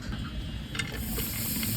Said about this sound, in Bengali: তো এবার ফ্রাই প্যানের ভিতরে দিয়ে দিচ্ছি মিশ্রণটি।